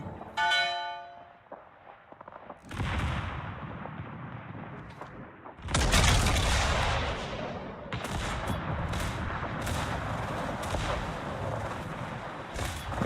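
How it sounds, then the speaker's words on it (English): Heavy naval gunfire from World of Warships, a ship firing high-explosive shells: booming broadband salvos and rumbling impacts, loud and repeated, with a bell-like ring at the start and no talk. "Ipananga shooting HE at me"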